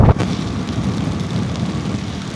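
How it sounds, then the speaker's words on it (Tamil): Steady rain pours down during a motorbike ride between Ongole and Vizag, a dense continuous hiss mixed with wind and road rumble, loud and close throughout, with a brief thump at the start. "மக்களே மழை பெய்யுதுங்க மக்களே"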